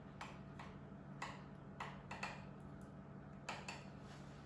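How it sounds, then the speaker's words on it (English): A small knife runs around a tart dish to trim overhanging pastry for a Greek courgette tart, giving a steady series of light, sharp ticks and scrapes against the dish under a low background hum. "carefully run your knife and cut the pastry by using the dish as your guide"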